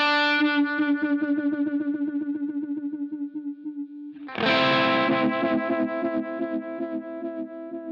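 A Shin-ei Uni-Vibe style pedal modelled on a Line 6 Helix throbs over a sustained guitar chord, its pulsating phase sweep speeding up, then a fresh loud strum rings on with a quicker wobble, no talk.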